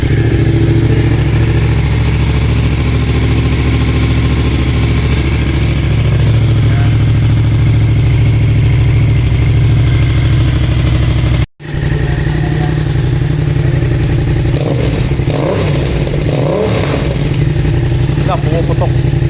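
A Yamaha MT07 motorcycle fitted with a cheap full system exhaust idles loudly and close, with a deep steady throb, a brief cut partway through, then uneven burbling and popping afterward.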